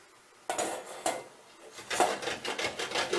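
A bar of soap being scraped across a metal grater, with a few sharp scraping strokes followed by a quicker run of rasping passes, close and fairly quiet.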